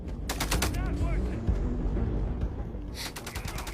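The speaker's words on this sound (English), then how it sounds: "That's hip fire right there." Rapid hip-fire gunshots from a weapon in the Starfield video game, a dense burst of cracking shots early on that thins to scattered reports, with a final loud shot near the end over steady background game noise.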